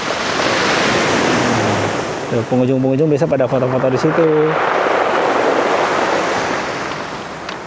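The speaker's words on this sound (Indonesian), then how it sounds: "Lucu suaranya. Suara batu koral." Surf washes over coral pebbles on a rocky beach at Pelabuhan Ratu, a steady, loud roar of waves and wind with a brief gravelly rattle, while a person talks over it.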